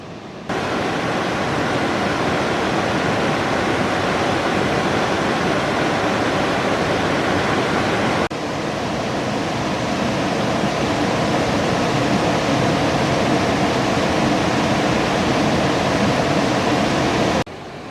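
Pang Sida Waterfall in the rainy season rushes in a steady, dense roar of falling water, loud and close, unbroken apart from a brief cut partway through.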